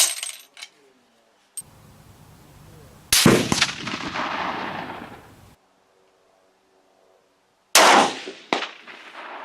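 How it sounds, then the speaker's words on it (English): Rifle shots ringing off a steel post target at 200 yards, a few sharp reports with long rumbling tails separated by silence, some faint clicks between them. "5 shots, 5 hits. Steel post at 200 yards."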